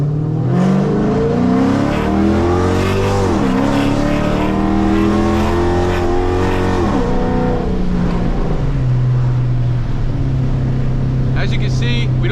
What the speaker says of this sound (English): I'm gonna give you guys a little bit of a pull off of a dig.